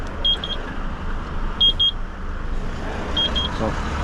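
Cars pass along a tight country lane near a quarry entrance, a steady road rumble close by, punctuated by three short bursts of repeated electronic beeping from a vehicle.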